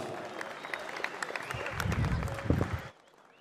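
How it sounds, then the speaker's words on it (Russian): An arena crowd at a mixed martial arts event claps and cheers as a Dagestani fighter is introduced for his professional debut, a dense mix of clapping and crowd noise that builds and then cuts off abruptly near the end. "Ваши аплодисменты, Муратбек Расулов."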